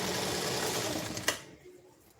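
Sewing machine running a fast, even stitch on a blouse seam, close and busy, then stopping abruptly with a small click and leaving near silence.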